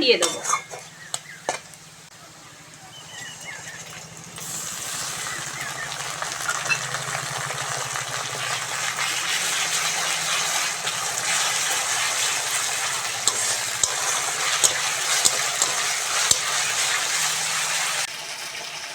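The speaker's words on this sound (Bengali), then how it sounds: "ভালো করে পেঁয়াজটা ভেজে নিয়েছি এবার আদা রসুন বাটাটা" Onion frying in a pan as ginger-garlic paste is added, in a village kitchen cooking fish: metal scraping and clinks at the start, then a loud, steady sizzle and hiss that holds for most of the clip.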